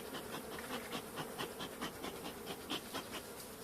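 A dense buzz of Caucasian and Carniolan honeybees fills the air, with repeated short flybys of single bees rising over the constant hum.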